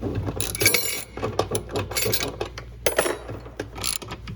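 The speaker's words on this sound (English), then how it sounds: "Grab your 13mm socket." Ratchet with a 13mm socket working on transmission bolts of a Whirlpool washer, producing close, busy mechanical clicking and metallic clinks in bursts over a few seconds, with no talking.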